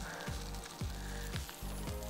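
Calf liver fries in hot fat in a pan with thyme, giving a steady close sizzle broken by a few soft scraping or stirring sounds, with no talk.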